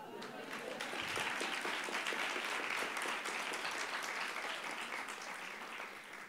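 Audience hands clap at a live podcast recording, a brisk, continuous patter of applause at close range with voices talking over it.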